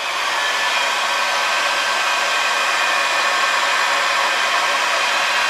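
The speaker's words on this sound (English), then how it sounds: "I do the heat shrink this way with a heat gun." A heat gun shrinking heat shrink tubing over a soldered wire connection while wiring an auto-dimming mirror on a Dodge 2500: a loud, steady blowing whir with a constant airy hiss, unbroken and close.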